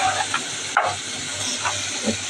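Food is sautéed in hot oil in a pan, with a close, continuous sizzle and hiss and a few soft stirring scrapes, and no voices.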